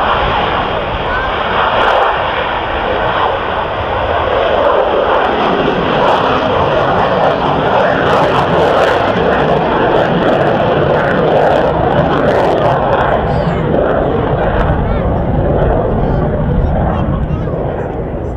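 A Swedish Air Force Historic Flight J32 Lansen jet flies past with a loud, continuous roar that holds steady for the whole stretch, with no quiet moments.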